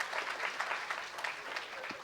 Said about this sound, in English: A huge round of applause again for all of them.